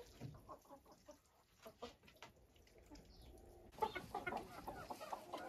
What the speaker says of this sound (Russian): Квокает вот эта черная курочка с чубчиком.